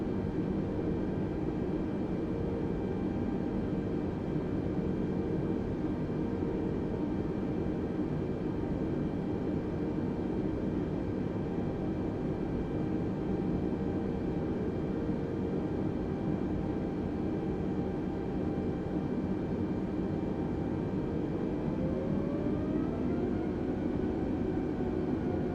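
Airbus A320neo taxiing at low speed in Microsoft Flight Simulator 2020, a steady, dense engine drone with a continuous broadband roar and faint tonal hum, unchanging throughout and alone.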